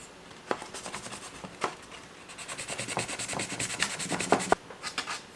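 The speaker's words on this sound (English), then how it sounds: "I'm gonna just kind of start sanding" Sanding paint off a repainted 1959 Cadillac, a close, steady rubbing rasp with repeated back-and-forth strokes that grow denser and louder toward the end, with no talk.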